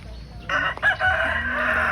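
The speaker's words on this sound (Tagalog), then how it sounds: "Nakita ko mga gandang manok, yung ano, sa talang." A rooster among display chickens lets out a single loud, close crow lasting about a second and a half, preceded by a short cluck-like sound in a quiet rural setting.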